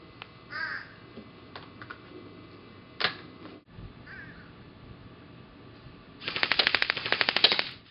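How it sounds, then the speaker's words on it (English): A VFC SCAR-L airsoft rifle fires, with a few sharp single clicks early on, then a rapid fully automatic burst of about fifteen snapping shots near the end, close and crisp over a quiet room. "So we'll be accomplishing 15 shots in fully automatic."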